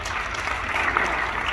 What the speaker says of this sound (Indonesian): Kasih tepuk tangan, saudara.